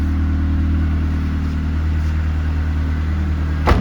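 A Camaro engine idles while warming up after sitting for a long time, a steady close low rumble holding even throughout with a brief knock near the end.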